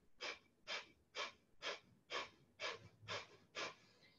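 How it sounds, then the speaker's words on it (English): Rapid breath-of-fire breathing through the nose with abdominal pumping, eight quick sharp exhalations in a steady even rhythm, close and clear with no talking. "the breath of fire is breathing through the nose and pumping through the abdomen"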